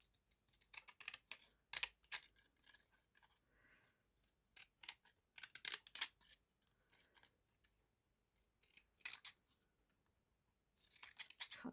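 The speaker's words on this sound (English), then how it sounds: "Cut the edges." Scissors snip along the edges of paper for a journal page, making a run of short, crisp cuts in irregular bursts separated by quiet gaps, close and fairly faint.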